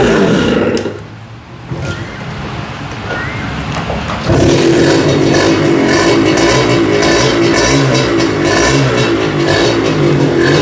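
A 1990s two-stroke Victor motorcycle engine revs close by, starting as a rough idle and then roaring loudly and steadily with a buzzy, crackling exhaust note after about four seconds.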